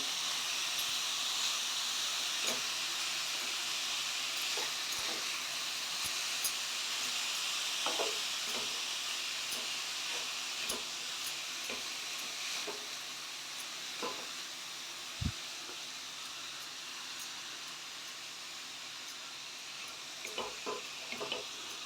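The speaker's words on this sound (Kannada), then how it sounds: "ಇದು ಮೀಡಿಯಮ್ ಫ್ಲೇಮಲ್ಲೇ ಫ್ರೈ ಆಗಬೇಕು ಐ ಫ್ಲೇಮಲ್ಲಿ ಫ್ರೈ ಮಾಡ್ಕೊಳಕ್ಕೆ ಹೋಗಬೇಡಿ ತಳ ಸಿದೋಗ್ಬಿಡುತ್ತೆ" Vegetable momo filling with cabbage frying on a medium flame, giving a steady soft hiss that carries throughout with scattered light clicks and scrapes and one sharp knock midway.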